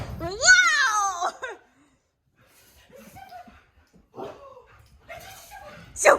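A dog at close range lets out a long, rising whine that breaks into yips and whimpers, with quieter sounds and voices mixed in afterward and another sharp yelp at the end.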